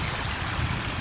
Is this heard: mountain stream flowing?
yes